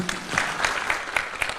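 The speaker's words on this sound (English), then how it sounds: "Another round of applause for His Excellency." An audience at a state ceremony for the President breaks into applause, a dense burst of clapping from a large crowd lasting under two seconds, with no voices over it.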